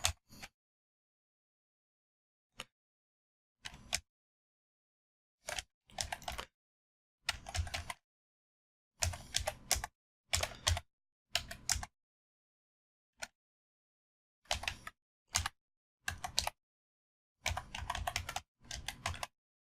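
Bursts of clicky keystrokes on a computer keyboard, short irregular flurries separated by silent pauses, close and fairly quiet.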